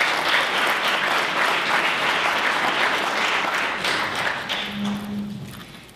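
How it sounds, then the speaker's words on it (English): Applause for Colonel Todd Turner at a leaders' breakfast gathering, a dense round of clapping from a roomful of people that slowly tapers off over several seconds. "Let's give him a round of applause."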